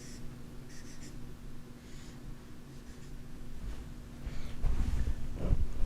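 Pen or marker drawing a free body diagram, faint scratchy strokes in short bursts over a steady low hum, with louder rubbing and tapping near the end.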